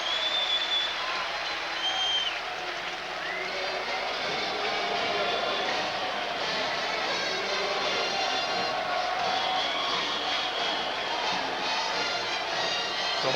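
Steady applause and crowd noise fill a college football stadium during the Fresno State Bulldogs versus Hawaii Rainbow Warriors game, a continuous broad wash of clapping and cheering held at an even level throughout.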